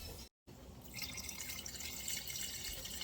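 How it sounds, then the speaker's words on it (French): Water poured into a cooking pot while making ntaba, a steady splashing, trickling stream heard up close after a brief gap, growing slightly brighter as it continues, with no talk. "Je rajoute de l'eau."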